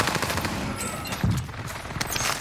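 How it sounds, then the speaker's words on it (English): Shotgun fire in the Rebirth Island video game, a dense, loud burst of rapid gunshots over a constant game background with one stronger boom partway through. "I'm using shotguns."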